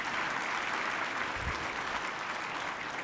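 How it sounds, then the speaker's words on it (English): An audience at an awards celebration gives a big round of applause, dense and even clapping held at a moderate level for the whole stretch. "Please, let's give a big round of applause."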